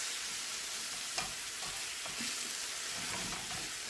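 Stock is stirred into sizzling ratatouille in a pan, a steady broad frying hiss with soft scraping stir strokes and a few light clinks, close and continuous with no talking.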